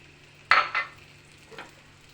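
Cabbage paratha frying on a tawa with a little white oil, giving one sharp sizzling burst followed by a couple of softer sizzles and a faint later crackle.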